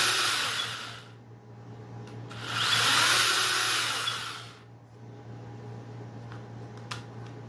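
A Ryobi pruning chainsaw, slow to start, gives two rising motor whines: a short one and then a longer, louder one that fades. A steady low hum runs throughout, and there is no talk.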